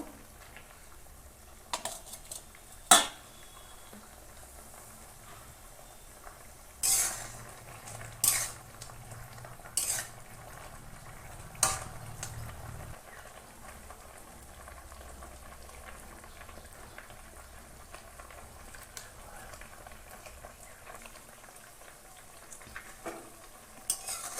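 Mixed leafy greens and potatoes cook in a pan with a soft, steady sizzle. A few sharp clinks and scrapes of a spoon against the pan break through now and then, with no talking.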